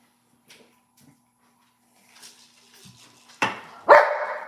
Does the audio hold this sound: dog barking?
yes